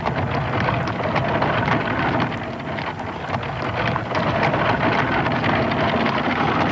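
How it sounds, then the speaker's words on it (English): Storm effect from a 1982 animated Wizard of Oz film, with steady loud wind and rain-like hiss roaring continuously across the whole stretch, no voices over it. "Oh, Henry, it's a storm."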